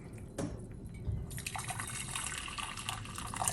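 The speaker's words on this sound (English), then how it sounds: "now we are going to pour water for these 3 colors in 3 pans" Water poured into cooking pans in a home kitchen, a soft steady trickle and splash building up after a brief knock, fairly quiet and close, with no talking.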